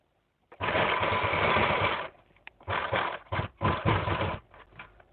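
A sewing machine stitches the side seam of a dress in one long close run, then several shorter bursts broken by brief pauses, clear with no talk.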